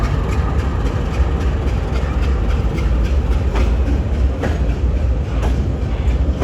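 A Norfolk Southern GE AC44C6M locomotive, a C44-9W rebuilt with AC traction, passes close by with heavy low rumble and steady rail clatter, sharp wheel clicks recurring through a loud continuous roar on a country main line.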